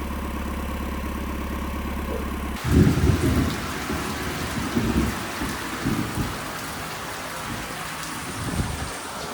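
Steady rain falls hard with low thunder rumbling through it, starting after an engine idles briefly, loud and continuous close by.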